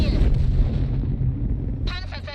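Artillery fire in the World of Tanks video game opens with a heavy, close boom whose low rumble slowly dies away, and a voice comes in near the end.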